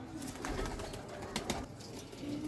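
Teddy breeder pigeons coo softly in a loft, low throaty calls repeating irregularly amid rustling and a busy background, close by, with no talk.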